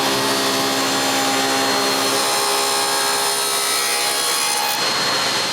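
A table saw blade cuts a rabbet along a walnut clock frame piece, giving a loud, steady whine and rasp that holds without a break before easing off near the end.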